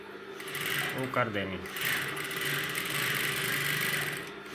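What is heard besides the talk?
sewing machine stitching a kanchli blouse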